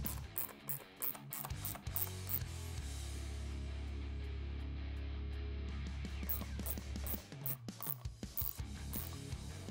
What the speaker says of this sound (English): So you will be tapping these screw holes with the actual screws.